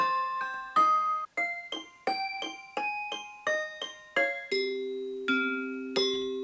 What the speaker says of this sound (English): This is what the church bells have ended up sounding like if you pitch them up an octave.